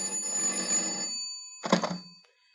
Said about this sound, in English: Telephone rang once again.